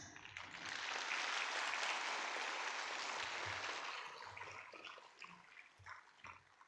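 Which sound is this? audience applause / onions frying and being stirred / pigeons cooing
audience applause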